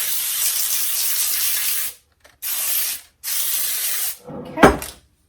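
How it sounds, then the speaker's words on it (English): Baker's Joy baking spray hisses onto a baking pan in three long bursts with short pauses between, loud and close, then a brief clatter as the can or pan is handled. "I'm just gonna spray this real quick with some Baker's Joy"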